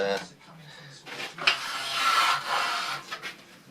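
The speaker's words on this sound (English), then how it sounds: "I'm going to spend a little bit of time sanding" Rough rubbing and scraping of sandpaper on a wooden bowl turned from a shrub root, in uneven strokes that swell and fade, fairly quiet and close.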